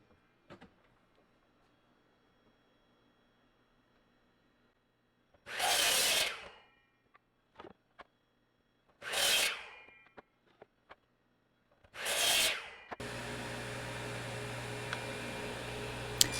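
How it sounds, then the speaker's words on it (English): A miter saw cuts scrap wood pieces to rough length in three separate loud bursts, each a rising whine that falls away, with quiet handling clicks between and a steady fan-like hum at the end. "I'm cutting the pieces to rough length at the miter saw."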